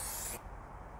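A can of fixative sprays too close to artwork, a loud, close, steady hiss lasting a moment before cutting off sharply and leaving a faint room hum.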